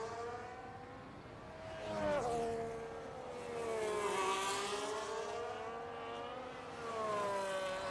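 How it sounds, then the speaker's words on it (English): Formula 1 cars in a racing video game pull out onto the Zandvoort track. Their engines rise and fall in a continuous whining drone, with several overlapping engine notes sliding in pitch and holding a steady moderate level. "we are getting a plethora of cars heading out onto the track"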